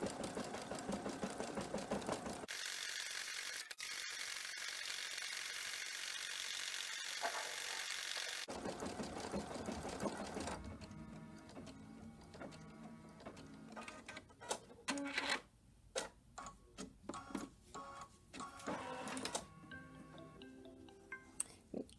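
Embroidery machine stitching, a loud, busy mechanical whir with rapid ticking needle strikes that shifts character partway through and ends in irregular clattering bursts, with no talk.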